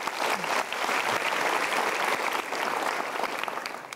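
Seminar audience applause at a motivational talk by Mario Teguh, a full, steady burst of many people clapping that holds for four seconds and eases slightly at the end, with little talk.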